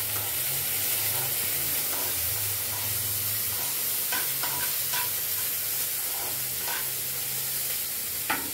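Garlic and peanut chutney ingredients frying in a pan, a continuous loud sizzle and hiss with a low hum beneath and occasional scraping stirs toward the end.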